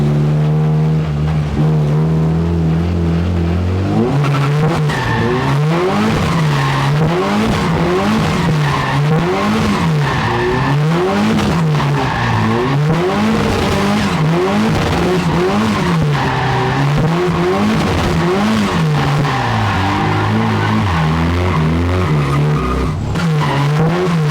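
A Saab 30 drifting on a skid track, its engine revving in rising and falling waves under continuous loud tire squeal. Sound is close and sustained throughout with no voices.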